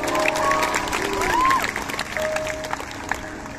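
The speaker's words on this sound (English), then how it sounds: "Can you guys give him a round of applause?" A concert audience at Expo 2020 applauds a keyboard player, a broad, steady wash of crowd clapping with some cheering and voices layered over it.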